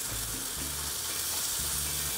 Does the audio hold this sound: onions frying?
yes